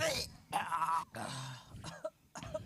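A child with a severe cough, also vomiting, coughs a few times in short rough bursts between stretches of strained talking, close and fairly quiet.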